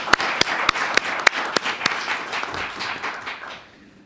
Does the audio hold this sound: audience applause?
yes